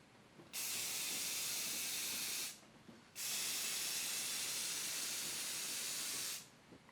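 Oil-based spar urethane finish sprayed onto a handmade wooden fishing net in a workshop: two long, steady hissing spray bursts of about two and three seconds, separated by a brief pause, close and loud.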